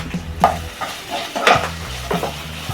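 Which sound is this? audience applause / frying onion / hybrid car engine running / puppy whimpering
frying onion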